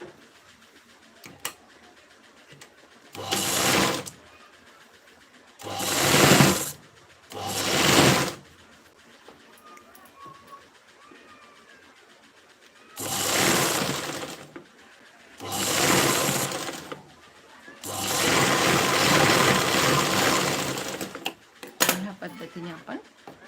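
Close-up sewing machine stitching a princess-cut blouse, running in several distinct bursts of a few seconds each, the last one longer, with brief pauses and handling clicks between them.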